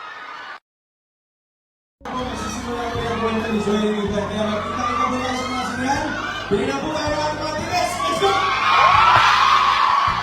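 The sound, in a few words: crowd screaming and cheering at a movie premiere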